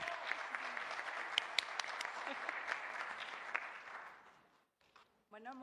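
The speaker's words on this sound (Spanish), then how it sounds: "Un fuerte aplauso para ella." A forum audience gives loud, sustained applause for several seconds, then it fades out and a speaker starts talking.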